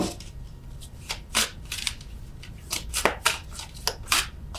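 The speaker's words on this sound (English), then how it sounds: "I'm terrible at shuffling these cards." Tarot cards being shuffled by hand in bursts of crisp riffling and flicking, with short pauses between, close by and alone.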